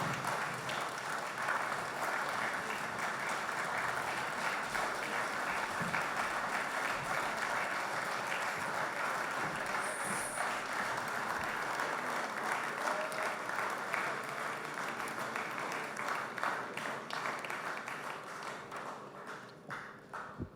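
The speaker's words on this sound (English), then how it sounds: "Can we give him another round of applause, please?" A lecture audience applauds at length after a memorial lecture, a dense, sustained wash of many hands clapping that holds steady for about twenty seconds before thinning slightly at the end.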